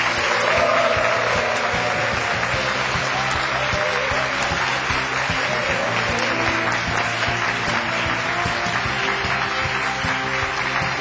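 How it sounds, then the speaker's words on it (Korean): A lecture audience gives steady, full applause to welcome Volkswagen Korea's chief executive Park Dong-hoon, a dense, continuous roar of clapping lasting throughout without a break. "여러분, 폭스바겐 코리아의 박동훈 대표를 힘찬 박수로 맞이해 주십시오."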